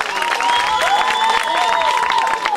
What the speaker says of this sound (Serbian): Da, veliki aplauz za nju.